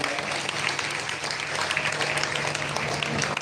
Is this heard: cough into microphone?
no